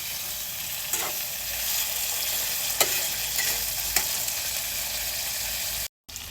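Boiled goat liver, salted and tinted with turmeric, fries in a pan with a continuous even sizzle, a few distinct scrapes of stirring, and a brief cutoff near the end; no voices.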